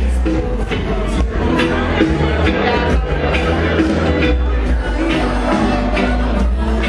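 Party crowd of costumed people chattering, a dense steady babble of many voices with low rumble, loud and continuous under a nearby speaker.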